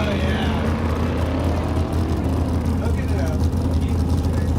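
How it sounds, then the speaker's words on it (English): Big block engine of a racing boat at an SCTA event in 2024, a deep steady rumbling drone, loud and continuous, with someone talking over it. "That sounds like a big block to me."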